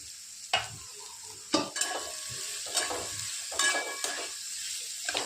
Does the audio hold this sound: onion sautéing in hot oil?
yes